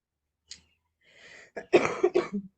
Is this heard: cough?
yes